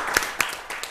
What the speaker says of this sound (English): Give Clyde a big round of applause.